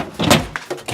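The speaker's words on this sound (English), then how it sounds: "Got the fresh drawer." Fresh drawer of a home refrigerator sliding open, a loud close scraping rumble with plastic rattles and a soft bump as it stops, over about a second with no talking.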